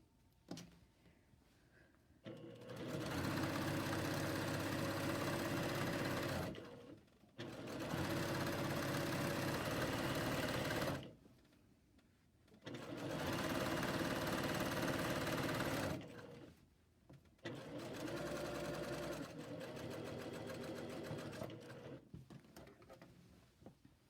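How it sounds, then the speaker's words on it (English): Serger overlocking a fabric side seam, four bursts of fast, steady mechanical whirring several seconds long separated by short pauses, close and even in loudness. "I'm straight stitching it and then serging it"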